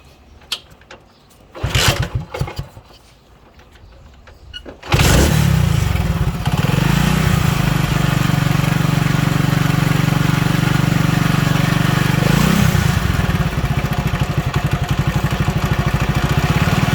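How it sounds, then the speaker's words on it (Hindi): A motorcycle with a lithium battery fitted is started after a few brief cranking bursts, then settles into a steady, loud idle that runs on unbroken, with no talk over it. "अब मैं बाइक को स्टार्ट करता हूँ और फिर हम इसके वोल्टेजेस चेक करते हैं।"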